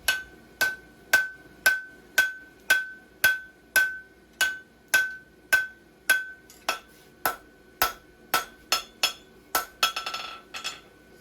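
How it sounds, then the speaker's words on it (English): Steel is hammered on an anvil while forging a horse hoof template, a regular series of about twenty sharp ringing clangs that speed up slightly near the end and close with a flurry of quicker blows. "Kind of going back and forth on the anvil there to try to draw it out evenly on both sides."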